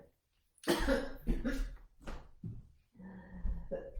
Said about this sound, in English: I shouldn't be coughing on food